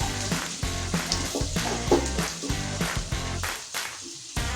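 Green chillies and onions sautéing in a hot pan for roadside-style egg rice, a steady sizzle with rhythmic scraping and stirring strokes, fairly close, no voice over it.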